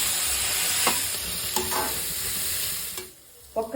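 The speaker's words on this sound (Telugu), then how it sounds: "ఇది వెజ్ ఫ్రైడ్ రైస్ ఎప్పుడు హై ఫ్లేమ్లోనే చేసుకోవాలి," Vegetables, including finely chopped beans, stir-fried on high flame for veg fried rice, giving a steady, close sizzle with a few spatula scrapes and stirs before the hiss briefly drops away near the end.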